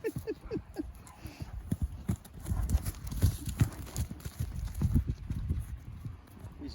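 Hooves clip-clop at a steady walking pace, close and fairly faint, as a horse moves along, with a snort or whinny-like note near the start.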